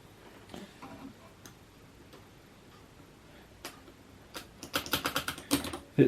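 An IBM Selectric III 670X typewriter being typed on: faint scattered key clicks at first, then a quick burst of sharp, close strikes building toward the end, with no voices.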